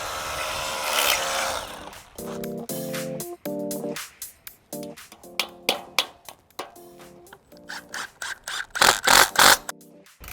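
A power driver drives screws through pre-drilled holes into a pool encapsulation over gunite, giving repeated short bursts of whirring with brief pauses between each screw, close and fairly loud.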